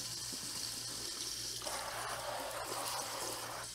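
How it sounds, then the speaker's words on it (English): Hatch green chili peppers rinsed under a running faucet, a steady close stream of water splashing in a sink that grows louder and more spattery midway through. "Just a good washing. Just wash them off a little bit."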